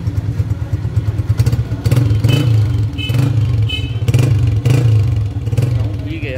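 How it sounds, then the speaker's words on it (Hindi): A Honda CG 125 motorcycle engine revs up in repeated bursts, loud and close with a throaty rumble and some clatter, while voices talk nearby. "थोड़ा सी रेस दो।"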